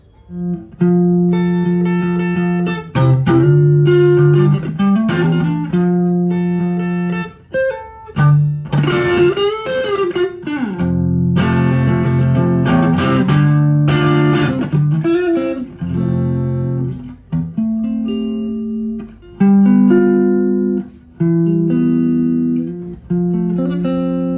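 A distorted electric guitar plays chords and riffs through a Zoom G1Four amp modeler, loud and gritty, with short pauses between phrases and no talking.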